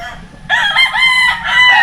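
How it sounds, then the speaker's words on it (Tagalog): A rooster crows loudly and close by among chickens in a coop on a chicken farm, one drawn-out crow rising from a quiet start and holding for over a second. "Kaya pa mga kalaki ang dami pa nilang manok dito."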